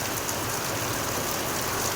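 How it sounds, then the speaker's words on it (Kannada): Steady, dense rain pouring down continuously, a broad hissing wash with no pauses and no voices. "ಇವತ್ತು ನಿನ್ನೆಗಿಂತ ಸ್ವಲ್ಪ ಜೋರು ಮಳೆ ಸ್ವಲ್ಪ ಅಲ್ಲ ತುಂಬಾ ಜೋರು ಮಳೆ"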